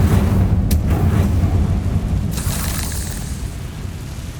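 A fiery Incendio spell blast in Hogwarts Legacy, a deep rumbling boom with crackling burst that swells early and fades over a few seconds, with a brief sharp flash of noise near the start.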